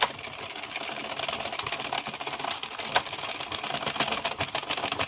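An addi circular knitting machine runs steadily, close and moderately loud, with a fast, even mechanical clatter of needles forming stitches.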